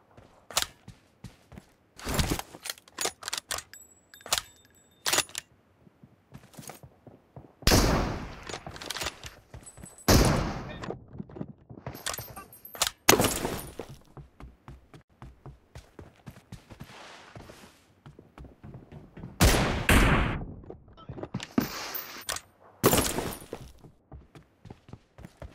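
Gunfire in a shooting video game, with scattered sharp single shots and short clusters spread irregularly over the span, some loud and close, others fainter, separated by quieter gaps.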